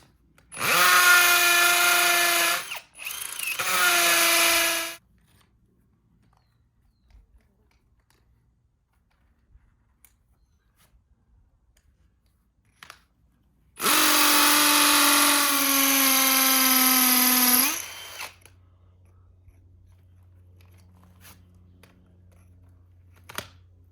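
Power drill boring a pilot hole into granite for a Red Head anchor, two loud bursts of whining drilling close by, then a longer third run after a quiet pause.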